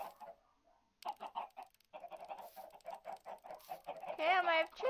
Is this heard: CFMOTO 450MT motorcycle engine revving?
no